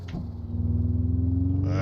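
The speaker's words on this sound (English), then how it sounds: "That rumble strip caught me." A drift car's tires hit a rumble strip with a rapid, even pulsing rumble that quickly builds and holds loud and close under a steady engine tone, with a short voice at the start.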